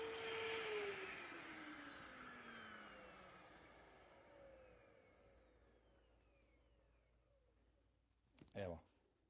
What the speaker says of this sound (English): Turn on the switch and the brush for deep cleaning. We vacuum the same part that you did a few seconds ago